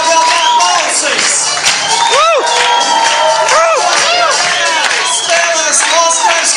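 A live show audience applauds and cheers to welcome the host, a loud, dense crowd roar with whoops and rising shouts that carries on throughout.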